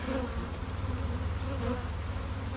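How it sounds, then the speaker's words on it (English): A honeybee swarm pours out of a hive in a bee yard, making a dense, continuous buzz that stays steady and close throughout. "Well, there's one taking place right here, right now."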